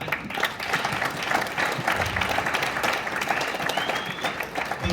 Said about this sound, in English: So give a round of applause that we have it